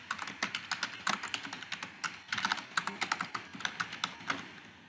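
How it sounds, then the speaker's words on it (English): Someone types text on a computer keyboard, producing quick, fairly even clicking keystrokes in steady runs with short pauses. The typing is close, soft and heard alone, with no talking. "And we'll type the text here."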